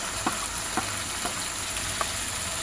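Spices and turmeric sautéing in a pan for Bengali egg malai curry, giving a steady close sizzle with a few soft stirring scrapes and no talk.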